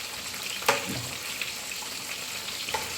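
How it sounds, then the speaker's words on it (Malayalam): Chicken pieces fry in hot oil for Kerala-style chilli chicken, a steady close crackling sizzle with a few sharper pops and a light stir, no voices. "ഈ രീതിയിൽ നമ്മൾ ചിക്കനെ ഫ്രൈ ചെയ്തെടുക്കുന്നു"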